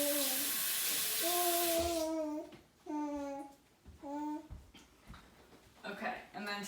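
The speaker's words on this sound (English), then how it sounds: "So I'm going to wash my hands real quick." Tap water runs with a steady broad hiss for about two seconds while hands are washed in a home kitchen, then fades as voices, including what sounds like a child, talk over the remaining moments.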